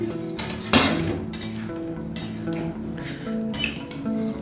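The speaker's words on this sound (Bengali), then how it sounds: "15 মিনিট পর আমি ঢাকাটা খুলে দিলাম।" A lid comes off a cooking pot of boiled banana flower with a single sharp metallic clink, followed by light clattering of cookware.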